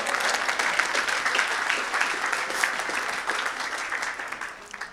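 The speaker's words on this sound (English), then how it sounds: "give him a round of applause." An audience at a live comedy launch event applauding, a dense, steady roar of many hands clapping throughout, fading slightly at the end.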